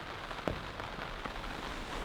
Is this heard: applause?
no